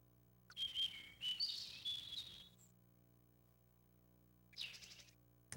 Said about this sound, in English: Someone tell that bird to shut up.